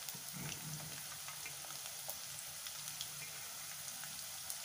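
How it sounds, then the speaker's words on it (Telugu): Green chillies fry in a pan with cumin, a soft steady sizzle with faint crackles and pops running throughout, quiet and close, with no voices. "వేసి దీన్ని బాగా వేయించుకుందాం"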